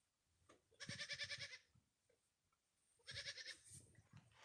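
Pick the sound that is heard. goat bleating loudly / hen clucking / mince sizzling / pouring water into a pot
goat bleating loudly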